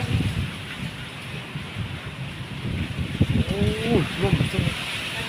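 Steady rain hissing down during a strong-wind summer storm in Ban Phue, Udon Thani, Thailand, with a low rumble and a voice briefly speaking over it toward the end.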